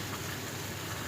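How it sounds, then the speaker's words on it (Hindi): Rain in Hyderabad falls in a steady, dense hiss that fills the whole moment with an even wash of drops, with no voices over it. "बारिश कम हो गई है।"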